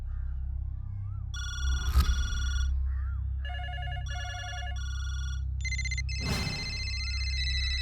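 A telephone rings in repeated electronic bursts of bright, steady tones, loud and close, with a couple of sharp thumps between the rings and a faint low rumble beneath, in a Hindi-dubbed action film scene.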